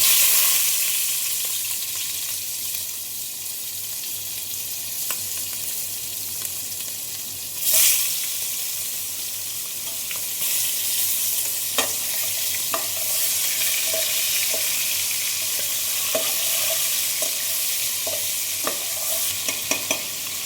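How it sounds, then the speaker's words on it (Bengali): Chicken pieces rubbed with salt, turmeric and chilli powder fry in hot oil, giving a steady dense sizzle that runs throughout, broken by occasional scraping stirs and small crackles, close and with no voices. "এবারে চিকেনগুলো ফ্রাই করে নেব"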